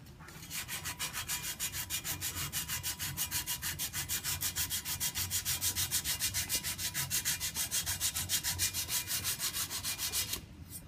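Sandpaper worked by hand over a repair area on a propeller after filing, a fast, even back-and-forth rasping rhythm, close and steady for about ten seconds before stopping.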